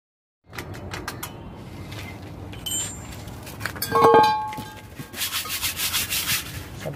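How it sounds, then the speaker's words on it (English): Sandpaper rubs steadily against the rear brake drum of a Toyota Land Cruiser pickup, giving a close, scratchy rasp in repeated strokes, broken by a few metallic clinks. "Sandpaper natin yung drum niya guys."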